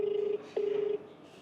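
Telephone dialing tones as a phone call is placed: two long steady tones with a short break between them, loud and clear with no talking.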